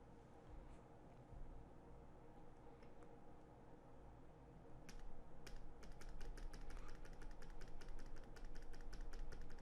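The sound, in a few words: typing on keys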